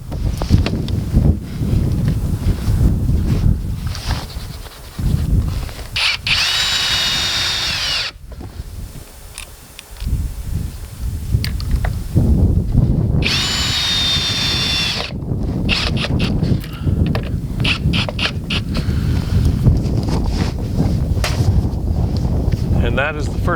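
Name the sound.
power drill mounting a shade head rod clamp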